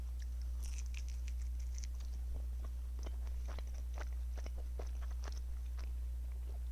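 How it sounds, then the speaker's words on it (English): Someone chews food close to the mic, with a series of crunchy, irregular bites and mouth sounds over a constant low electrical hum, and no talking. "just me chewing"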